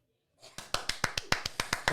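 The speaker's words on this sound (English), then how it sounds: "Big round of applause for that one." A small group claps in a quick, sparse round of applause during a Christmas-special football podcast, about a dozen sharp, close hand claps in an irregular rhythm, with no talking over them.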